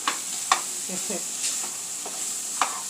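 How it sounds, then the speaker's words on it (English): Corned beef hash frying in a pan hisses softly and steadily while a spatula scrapes and taps through it a few times, near and alone. "mixing up the corned beef hash so it don't burn"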